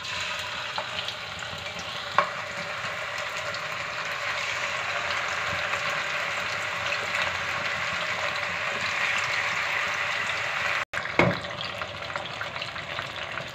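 Seekh kebabs, minced mutton, frying in hot oil in a kadhai give a steady, fairly loud sizzle and bubble that runs throughout, with a brief clatter near the end.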